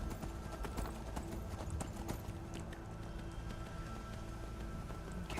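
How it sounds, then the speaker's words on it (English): Horse hooves in the video game Skyrim clip-clop in a steady, brisk rhythm, fairly faint over a soft background hiss, with no talking. "I got on my horse to go to the meadery"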